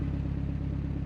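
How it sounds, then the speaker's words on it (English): A Mazda Miata's aftermarket exhaust idles with a low, steady, slightly lumpy burble, close and continuous, with no talking over it. "that's what it sounds like idling."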